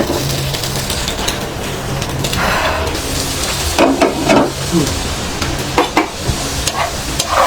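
Potatoes frying in a pan for home-style aloo bhaja give a steady close sizzle, broken by bursts of stirring and scraping that grow busier toward the end.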